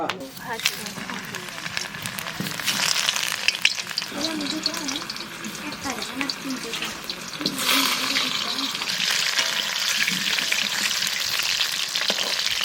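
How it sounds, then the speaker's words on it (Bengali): Potatoes fry in hot oil at a village festival cookout, a steady broadband sizzle running the whole time with occasional stirring clatter, while voices talk over it. "তো আলু ভাজা আমাদের হয়ে গেছে"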